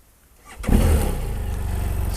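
A 2017 BMW F800 GS motorcycle starts up close by: a brief crank, then the engine catches and settles into a steady, loud idle with no talk.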